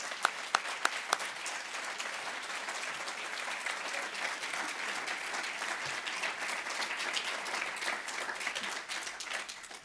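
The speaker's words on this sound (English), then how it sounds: "Please give them one more round of applause." A crowd at a California community colleges awards ceremony gives a sustained round of applause, many hands clapping in a dense, unbroken wash with a few sharp nearby claps standing out early on.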